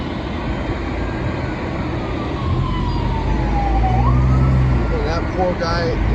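An ambulance siren wails in a long falling sweep, then shifts into rapid yelping, sounding moderately near over steady low engine rumble and wind during a blizzard at Big Bear Lake, California, with the vehicle running on snow chains.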